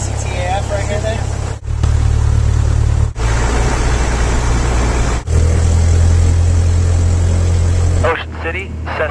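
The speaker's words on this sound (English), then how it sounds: "Cessna November 346 Bravo Sierra, departing runway 6, northwest departure" A Cessna light aircraft engine drones loud and steady at close range inside the cabin, holding a deep hum with brief dips and ending in speech over a quieter engine.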